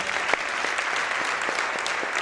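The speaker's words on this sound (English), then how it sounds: "Come on, somebody clap hands for Jesus." Church congregation clapping hands during a service, a dense, continuous roar of many hands with a few louder nearby claps standing out, no talking over it.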